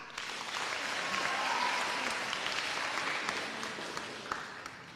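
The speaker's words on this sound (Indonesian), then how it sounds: "Tepuk tangan." Sustained applause from a church audience at a lively question-and-answer session with a priest, dense and steady throughout with a slight swell midway, no talk over it.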